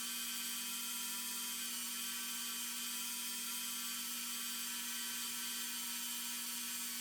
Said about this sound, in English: we're going to just kind of clean it up a little bit with a brass wire wheelie